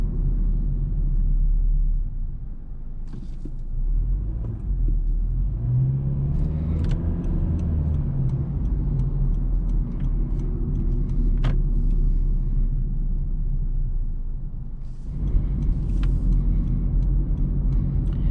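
A 2022 Honda Civic LX base trim with a CVT cruises along a road, its steady low engine and tyre rumble continuous and close throughout, with a few faint clicks and rattles inside the cabin.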